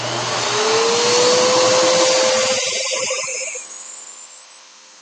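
A Sebo X4 upright vacuum cleaner running close by, a loud steady motor roar with a rising whine that fades out as the machine shuts down.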